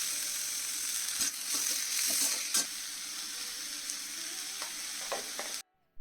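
Onion and tomato fry in oil with ginger and garlic for restaurant-style palak paneer, making a steady close sizzle dotted with clicks and scrapes of stirring before cutting off abruptly.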